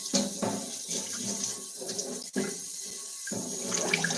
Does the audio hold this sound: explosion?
no